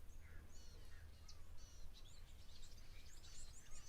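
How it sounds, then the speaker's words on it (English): Grey go-away birds calling at a waterhole, with several bright chirps and short whistled calls scattered through a constant low outdoor rumble, moderately distant and faint. "You can hear some grey go-away birds in the background."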